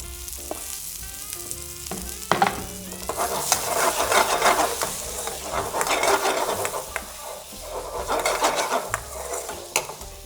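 King prawns fry in a pan for a restaurant-style biryani, giving a loud, steady sizzle with the scrape and clatter of stirring throughout.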